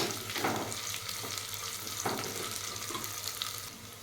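Onions and green chillies fry in a pan for mushroom biryani, a steady close sizzle with occasional scrapes of stirring and no talk.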